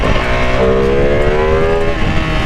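A Ducati Panigale V2 motorcycle in race mode revving hard, a loud, dense engine roar rising in pitch with a steady harmonic whine, sustained and close with no talk.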